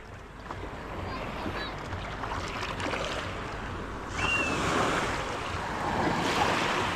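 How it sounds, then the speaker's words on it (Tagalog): Surf washes and rolls continuously, swelling louder midway and again near the end, with wind buffeting the microphone and brief faint voices. "Paglaki ng alon."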